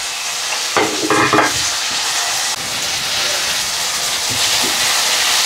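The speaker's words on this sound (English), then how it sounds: "we're going to go in with our ingredients which are on the plate: the onions, tomatoes, garlic, ginger and chilies, and we're going to saute these" Onions, tomatoes, garlic, ginger and chillies sauté in hot oil for saag paneer, giving a loud, continuous sizzle with a few brief scraping stirs near the start, close and without speech.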